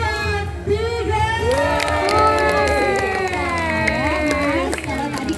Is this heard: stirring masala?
no